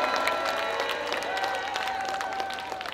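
Crowd applause at a political rally of the ABOP party ahead of an election, with dense steady clapping close by, a few voices calling out and a faint sustained tone running underneath.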